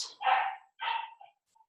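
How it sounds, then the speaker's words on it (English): A puppy barks twice close to the microphone, two short sharp yips, followed by a faint little whimper. "Sorry about my dog."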